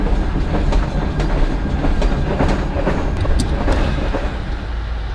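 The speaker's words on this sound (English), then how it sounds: "we're on the train heading down to Penn Station" Steady rumble of an Amtrak train rolling along the tracks toward Penn Station, with faint rhythmic clicks from the rails over a constant low roar.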